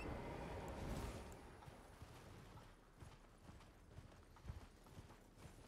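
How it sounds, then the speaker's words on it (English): Horse hooves clip-clopping as a mount trots across open terrain in the video game Elden Ring, a steady rhythmic gait at moderate distance with faint wind-like ambience and no talking. "Can I get on my horse now?"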